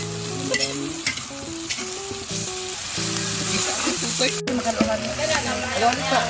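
Food frying and sizzling in a pan while being stirred, with scraping utensil strokes over a steady hiss, under loud background music and occasional voices.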